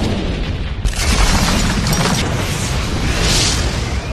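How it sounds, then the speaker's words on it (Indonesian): A massive anime explosion erupts with a sudden loud boom that roars into a long, dense blast of crashing noise and debris, filling the scene for several seconds before cutting off abruptly. "Setelah ledakan yang dahsyat itu"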